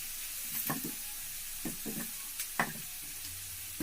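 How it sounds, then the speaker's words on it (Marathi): Onion frying in oil for a chana dal dish: a soft, steady sizzle with several scraping spoon strokes against the pan at irregular intervals, close by. "चांगला कांदा तळून घ्यायचा"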